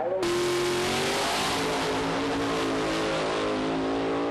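A 1967 Chevy Nova drag car built to make 1,200 horsepower launches hard, its loud engine note rising steadily in a rough, high-revving roar as it pulls away.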